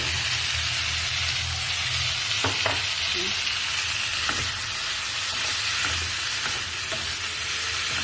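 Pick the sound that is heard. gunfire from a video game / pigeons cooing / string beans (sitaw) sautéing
string beans (sitaw) sautéing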